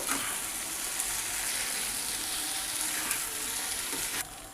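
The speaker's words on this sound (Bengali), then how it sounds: "এবার এর মধ্যে আমি ভেজানো চিড়েটা দিয়ে দেবো। ভালো করে নাড়াচাড়া করে নেব।" Soaked flattened rice for chirer polao fries in a pan with a steady, close sizzle, occasionally stirred, with no talking.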